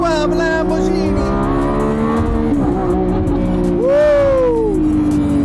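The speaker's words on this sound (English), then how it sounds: "Let's listen to the V12 Lamborghini." A high-revving Lamborghini Revuelto V12 engine runs steadily with rising and falling pitch, swelling into a loud rev burst near the end, with faint voices beneath.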